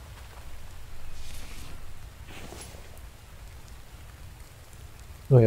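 Steady rain falls in the survival video game The Infected, a soft even hiss that runs throughout and swells slightly early on, with a sudden louder thump right at the end.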